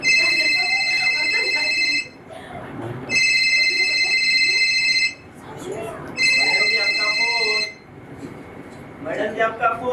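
A landline-style telephone rings in three loud, sustained electronic bursts with short pauses between them, while people talk over and between the rings.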